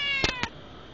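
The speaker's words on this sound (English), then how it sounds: "There's my horny cat." A cat in heat lets out two quick, loud, close meows in succession, with a faint background hum around them.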